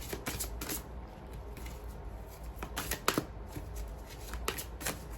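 A deck of oracle cards being shuffled up close before drawing the next card, heard as repeated soft papery riffles and slaps in uneven bursts, with no talking over them.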